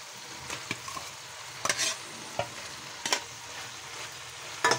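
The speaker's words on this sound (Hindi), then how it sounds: "आलू को मसाले में अच्छे से मिक्स करेंगे।" Potatoes get stirred into a sizzling spiced masala of fried tomatoes, a soft continuous fry punctuated by several sharp scraping clinks of a spoon against the pan, close and without any voices.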